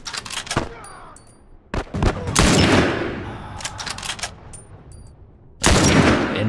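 Repeated gunfire bursts from The Last of Us video game, loud sharp shots in uneven clusters with ringing pings between them, ending in a heavy blast.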